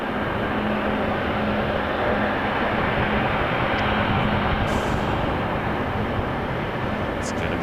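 A Boeing 777 airliner departs Toronto Pearson Airport, its engines a steady, loud broadband roar that holds through the whole stretch with a faint low hum beneath.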